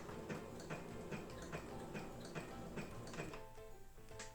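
A Singer SC220 sewing machine stitches a small zigzag at a steady, even tick, each needle stroke landing clearly and close by with a low motor hum underneath, then easing off at the end.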